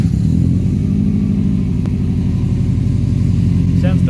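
A car engine runs loud and steady throughout, a continuous low rumble with a slight rise near the end, while work is being done on it in a driveway; no speech is heard.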